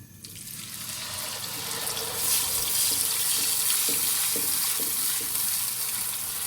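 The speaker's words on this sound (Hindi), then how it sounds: "ये जार में मैंने पानी खंगाल के डाला थोड़ा सा, ये भी इसी में डाल देंगे" Water runs and sloshes inside a blender jar close by in a kitchen, a steady splashing hiss as it is rinsed.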